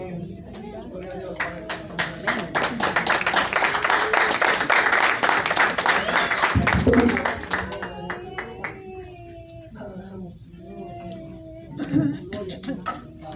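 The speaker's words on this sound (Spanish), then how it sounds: "Si ese aplauso era para mí, he dicho otras veces, es más de lo que merezco." Church congregation applauding, a dense burst of clapping that swells for about seven seconds and then thins into scattered claps, with voices and a few cheers mixed in.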